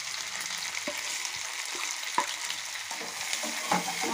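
Chopped capsicum and fried onions with tempering spices stirred in a hot pan, steady sizzling throughout with scattered scraping knocks of a spoon.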